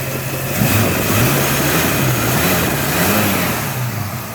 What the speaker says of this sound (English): Engine sounds tight.